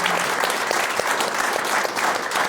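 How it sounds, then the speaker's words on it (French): A TV studio audience applauds in a dense, steady wash of clapping, close and unbroken, with no speech over it. "on l'applaudit bien fort"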